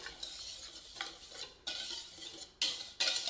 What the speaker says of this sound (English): So we're just gonna whisk those together.